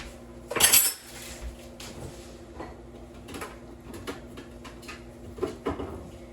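A pot with butter in it and metal utensils clatter and clink as they are moved onto the stove, starting with a loud bright clang and followed by scattered lighter knocks and scrapes, close and without talk.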